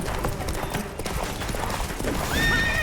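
Roach, Geralt's horse in The Witcher 3 video game, clip-clops along with quick hoofbeats, then lets out a clear neigh near the end, close and moderately loud with no talk.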